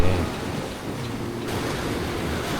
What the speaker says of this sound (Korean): 비가 생각보다 많이 오네